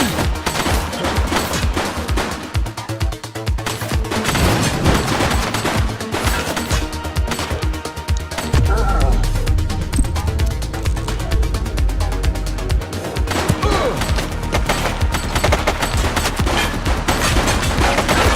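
Gunfire in the police game The Precinct: rapid, dense bursts of shots crackle close and loud throughout, with heavy low thumps joining partway through, no voices over it.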